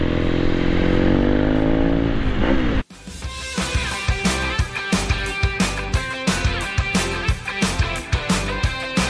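A BMW R nineT-based 1200 enduro custom on knobby tyres cruises gently over tarmac: a steady engine drone first, then an abrupt cut into a run of rhythmic, clattering pulses, close and loud with no talking.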